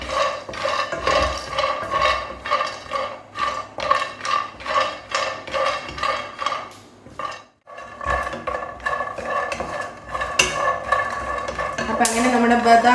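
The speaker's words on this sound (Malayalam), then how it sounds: "ഞാൻ ബദാമാണ് ഒന്ന് ചൂടാക്കി എടുക്കാൻ പോവാണ്" Almonds roasting in a pan, stirred with a steady rhythm of scraping and rattling strokes that repeat up close, pause briefly midway, then resume more densely.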